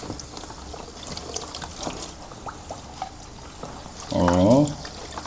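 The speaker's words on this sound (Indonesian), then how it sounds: "Kita kasih air mengalir seperti ini." Tap water runs to rinse a JSL-type hair system in a home sink, a soft steady splashing throughout with a brief louder gush near the end.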